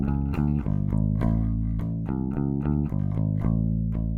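Electric bass guitar playing a riff pattern four times at a slowed pace, loud, punchy repeated notes with steady rhythm and no voices.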